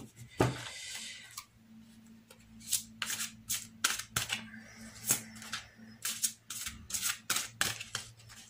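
Tarot cards being shuffled by hand, a series of crisp riffling bursts repeating roughly every half second to second, close and fairly loud, with no talking.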